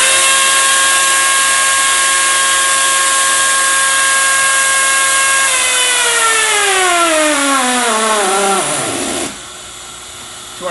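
A Raptor hydraulic torque wrench tightens a nut, running with a steady high whine that slides downward in pitch as it stalls out under load, then cuts off abruptly.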